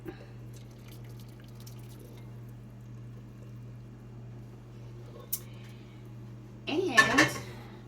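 Cooked black rice ramen poured into a bowl: a short wet splash and clatter near the end, preceded by a low steady hum and a faint clink in an otherwise quiet kitchen.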